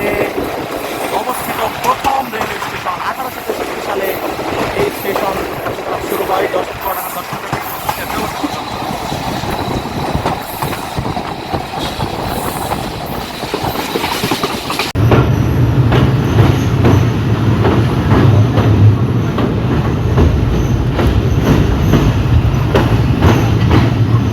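The Nakshikantha commuter local train pulls into platform four over the Padma Bridge line, with rumbling wheels and rhythmic rail clatter that grows louder and heavier partway through. People talk over the noise.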